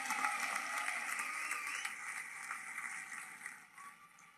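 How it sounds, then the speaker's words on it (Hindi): Clapping from a crowd at a political speech rally in Maharashtra, a soft, distant, steady patter of hands that slowly fades out. "एक बार ताली बजाकर इनका स्वागत करिए"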